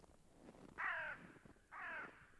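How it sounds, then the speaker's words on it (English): Two loud, harsh caws from a crow in a hunting video game set on a ridge, each about a third of a second long and spaced roughly a second apart, close by over quiet background noise. "just crow cawing"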